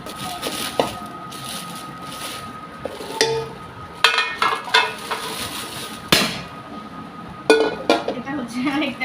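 Metal woks (kadai), one of them 22 cm, being handled and set down, giving scattered sharp clinks and knocks close by, with a person talking in between.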